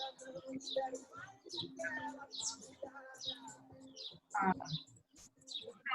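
Birds chirp and tweet in rapid, repeated bursts through a meeting participant's open background, fairly close and continuous over low room sound.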